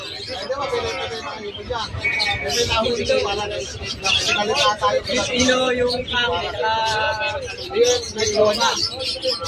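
At the Malabon pet market, lovebirds including a Lutino Opaline hen chirp and tweet in a busy chorus, with cooing birds nearby and people talking throughout.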